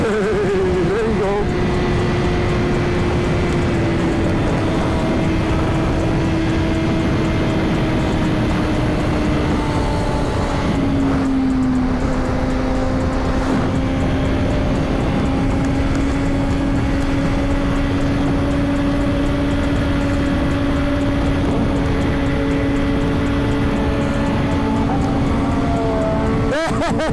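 Suzuki GSX-R 1000 motorcycles riding in a group, heard from a rider's seat: a steady loud engine drone whose pitch sinks and then holds through the ride, with wind rush and a voice talking over it.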